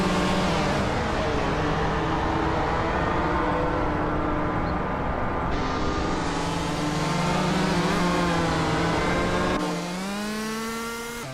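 Racing cars zipping around a track in a video game, layered whining engines rising and falling in pitch as they pass, with a steady loud drone and one car swelling near the end.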